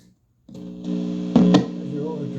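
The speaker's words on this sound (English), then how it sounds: "There's your overdrive." A cheap yard-sale guitar amplifier with its overdrive engaged gives a buzzing, distorted sustained tone that swells in after a brief silence and holds steady, with a louder surge partway through.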